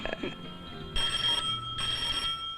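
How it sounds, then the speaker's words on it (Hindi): Telephone bell rings in two loud, bright bursts separated by a short pause, close by in an indoor room, following brief talk. "इस टेलीफोन कमबख्त को भी इसी वक्त आना था।"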